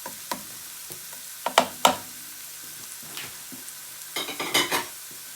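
Chorizo frying in a pan for paella, a steady soft sizzle broken by scattered clicks and scrapes of stirring, louder bursts clustered near the end, with no talking.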